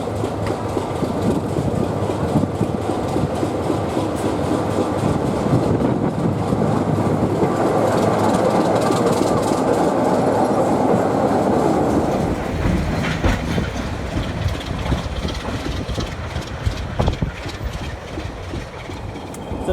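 A heavy Class 25 diesel locomotive rumbles and clatters past at close range at a station platform, its engine droning loudly before easing off while wheels keep rattling.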